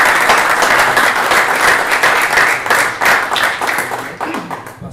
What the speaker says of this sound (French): Oui, vous pouvez applaudir parce que...